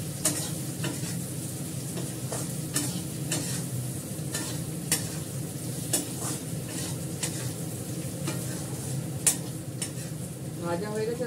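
Potatoes frying in a pan, a continuous close sizzle broken by regular sharp scrapes and clinks of a utensil stirring against the metal.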